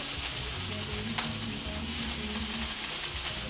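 Seafood for Haitian paella seared in a very hot pan, a steady crackling sizzle with a low rumble underneath and one brief sharp pop, close and constant.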